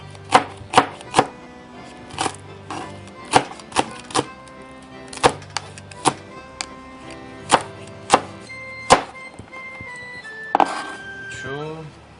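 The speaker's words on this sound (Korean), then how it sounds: "청양고추도 썰어 넣도록 할게요. 청양고추는 어슷썰기로 썰도록 하겠습니다." A knife strikes a cutting board in sharp, evenly spaced chops as Cheongyang chili peppers are sliced on the diagonal, about a dozen crisp hits over a soft musical background, with a voice briefly heard near the end.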